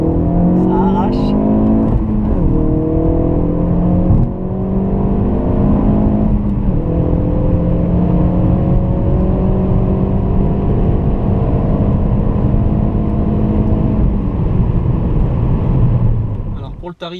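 Ford Focus RS 2017 with the performance pack, its engine loud and close as it accelerates hard through repeated rising gear pulls, with a brief dip near four seconds and a fade at the end.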